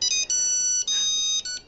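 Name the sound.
phone ringtone, incoming call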